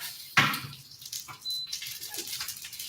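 Bacon grease pours off a pan in a brief liquid splash, followed by faint trickling and small clinks nearby.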